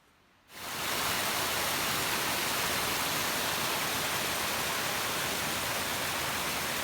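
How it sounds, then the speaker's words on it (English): Little creek flowing in a wilderness basin, a steady broadband rush of water that fades in over the first half second and continues loud and unbroken, with no speech. "we stopped here along this little creek for a second"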